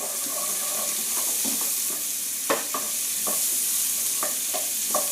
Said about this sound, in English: I'm going to saute these veggies until they're tender